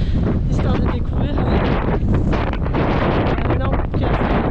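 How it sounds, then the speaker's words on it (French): Heavy wind buffeting the microphone outdoors in the Lofoten, a loud constant rumbling roar with gusty surges, while a person speaks under it. "Il y a encore du vent mais ça va"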